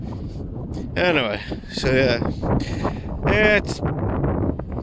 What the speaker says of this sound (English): It's just almighty wind.